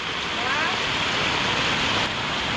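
Water rushes along a stream channel beside a house in rural Konkan, a continuous loud gushing roar that holds steady throughout, with no talk.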